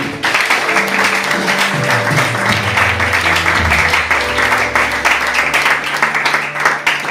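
A church congregation applauding to acclaim Jesus, dense sustained clapping filling the room loudly for several seconds, with voices and an organ-like tone underneath.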